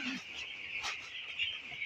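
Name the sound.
broiler chicks chirping in a poultry shed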